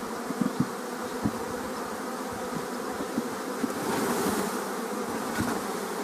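Honey bees swarming beside an apiary, a thick, steady buzzing drone that swells slightly partway through, with scattered knocks and clicks from nearby handling of boxes.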